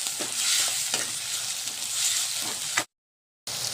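Chopped tomato and sambar masala cooking in a pan give a continuous sizzle with stirring scrapes, then a short dropout of total silence before the sizzle returns.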